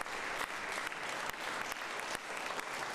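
A crowd gives a standing ovation at a winter solstice memorial gathering, with dense, even clapping sustained throughout and no talk over it.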